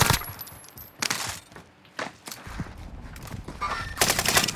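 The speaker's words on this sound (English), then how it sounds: "taking heavy fire." Gunfire in the video game Call of Duty: Modern Warfare, with sharp bursts of shots cracking at intervals amid a busy battle mix, loud and close with no talk over it.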